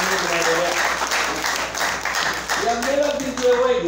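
Wedding guests clapping hands at a believers' wedding ceremony, a lively burst of close applause with rhythmic claps, while voices speak over the clapping toward the end.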